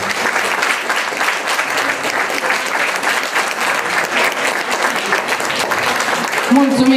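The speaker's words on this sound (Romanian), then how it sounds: "încă o dată vă rog să vă aplaudați" Loud, sustained applause from an audience cheering child performers at a festive event, a continuous crowd of clapping hands, with a voice beginning to speak near the close.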